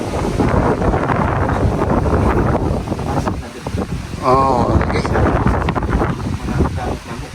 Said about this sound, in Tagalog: grabe yung hangin dito malakas